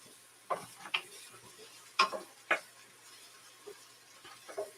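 Several sharp knife chops through an onion onto a cutting board while making New Jersey Italian-style hot dogs, four or five distinct close taps spaced about half a second apart, then softer ones, in a quiet kitchen.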